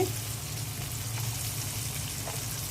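Ginger-garlic paste and ground spices frying in a pan with sautéed onion, giving a steady, even sizzle with faint crackles and no voices.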